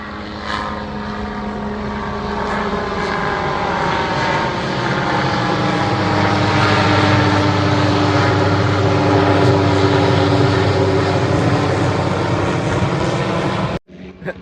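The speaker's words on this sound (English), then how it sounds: "We got an airplane going over top of us." A propeller airplane drones overhead, its engine hum swelling louder toward the middle and then fading, ending in an abrupt cut.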